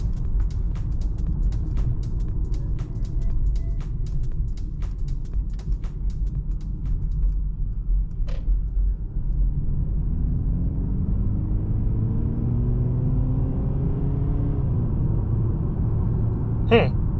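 A 2023 Mercedes-Benz GLC 220d diesel engine hums low and steady from inside the cabin, its pitch sliding upward as it revs moderately below 4,000 RPM, with faint clicks and no talking.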